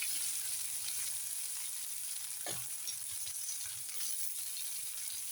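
Onion, potato, coriander and curry leaves sauté in a hot pan with a steady, even sizzle that holds close and unbroken throughout, with no voices.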